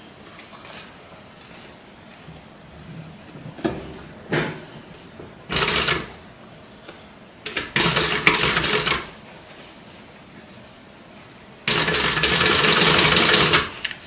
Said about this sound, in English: So as I sew, I'm just making sure the edges are together.